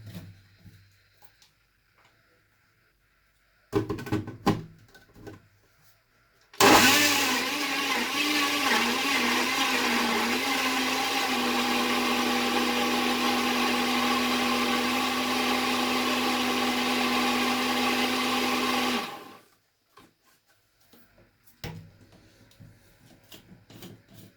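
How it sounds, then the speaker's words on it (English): A kitchen mixer grinds small turmeric chunks in one loud, steady whir of about twelve seconds, its pitch wavering briefly as it starts, set between quieter clatter and handling noise at either end. "if you have a stronger mixer, you know what to do."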